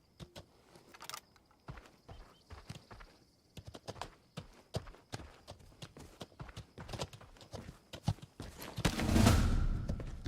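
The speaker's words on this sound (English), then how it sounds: "Hold on, horsey." Horse hooves clip-clop steadily at a walking pace in the Western video game The Legend of California, a run of close, sharp knocks that build into a louder rushing burst near the end.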